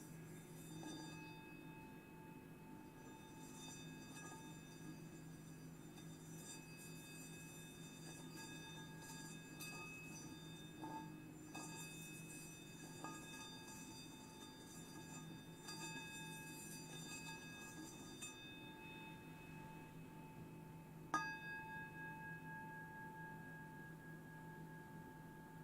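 Church bells ring far off through a quiet room, long sustained tones layered into a continuous hum, with a single sharp knock near the end.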